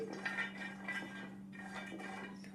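Almonds roast lightly in a kadai on the stove, and a spatula stirs them with faint clinks and scrapes against the metal. A steady low hum sits underneath.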